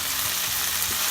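Sauce sizzling as it hits a hot pan while pasta is cooked, a steady soft crackling hiss that stays even and close throughout the short moment.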